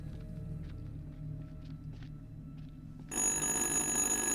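A telephone rings in the horror video game Little Hope, a bright steady electronic ring that starts abruptly partway through over a low ambient drone, fairly loud and with no talking.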